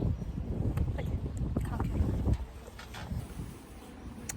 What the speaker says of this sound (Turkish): Rüzgar çok güzel esiyor.